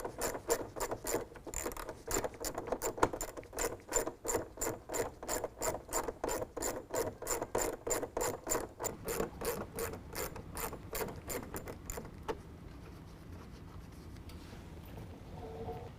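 A hand ratchet works loose two 7 mm bolts inside a car's fender well during a SPEC-D headlight install, giving rapid, evenly spaced close clicks that slow and stop near the end.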